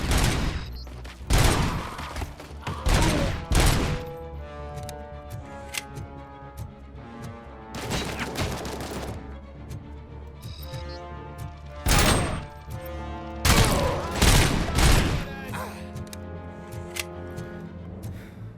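Gunfire in the video game Robocop: Rogue City: loud, close bursts of rapid shots and heavy thuds fire in several clusters with short gaps between them, over a steady low game soundtrack.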